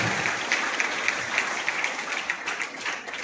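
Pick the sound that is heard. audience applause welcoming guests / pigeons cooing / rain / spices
audience applause welcoming guests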